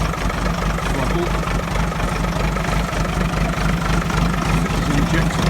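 An injected tractor engine idles with a slight throttle hunt, a steady low rumble filling the whole stretch at close range with no talk over it.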